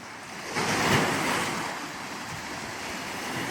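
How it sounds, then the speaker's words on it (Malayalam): Small, gentle sea waves wash onto Haql beach in Saudi Arabia, a soft continuous surf with light wind noise, swelling briefly before settling into a steady wash. "ഹക്കലിലെ കടലിന് തിരമാല കുറവാണ് കേട്ടോ. ചെറിയ തിരമാല ഉള്ളൂ"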